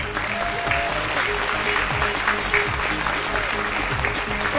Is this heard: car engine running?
no